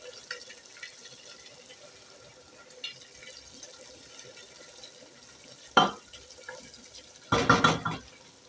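Chopped onions drop into a pot for beef biryani and are stirred, giving a short sizzling splash and a brief burst of scraping near the end after a quiet cooking background.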